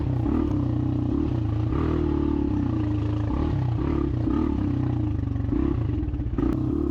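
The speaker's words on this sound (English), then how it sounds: "what I do love is the sound of this motorcycle" Dirt bike engine on an enduro track at the Concho Sprint Enduro, a steady loud close-up drone with throttle rises and dips as the bike rides along, no talk over it.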